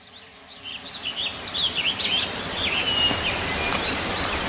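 Wild crows calling outdoors, a run of short chirpy, warbling calls over a few seconds at moderate distance against a steady rustling background.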